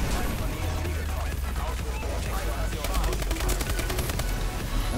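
Rapid gunfire from an M14 rifle in a video game, with dense loud shots in quick succession over a constant heavy game din.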